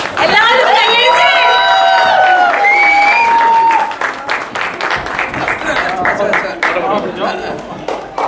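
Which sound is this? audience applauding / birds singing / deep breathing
audience applauding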